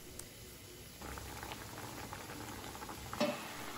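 Pumpkin simmering in water in a kadai, with soft continuous bubbling and a few faint pops, close and quiet, no talking.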